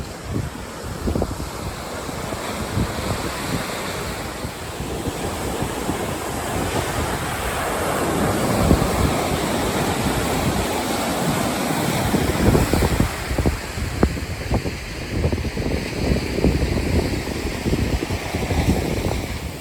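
Ocean surf rolls and breaks near the shore, with steady wind buffeting the microphone throughout and waves building in repeated washes, loud and continuous.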